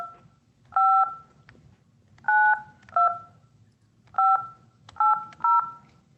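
Telephone keypad tones dialed one by one, six clear beeps in an uneven rhythm with short gaps, each a steady two-tone chirp over a faint low hum.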